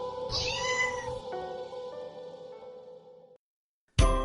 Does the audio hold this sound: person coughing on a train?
no